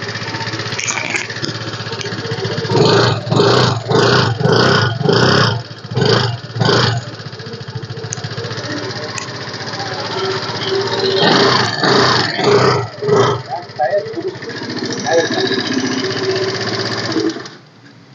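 A second-hand scooter engine runs steadily close by at a used bike market, a constant buzzing drone. People talk over it in several bursts.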